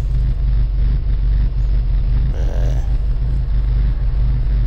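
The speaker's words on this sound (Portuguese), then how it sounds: "levei o carro para dar uma volta" A car out for a drive after a gear-shift adjustment, with a steady low engine and road rumble plus wind noise running throughout, loud and close, with a brief brighter swell partway through.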